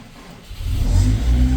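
A Honda car engine, started cold, catches and revs up, a loud rising throaty roar that holds steady close by.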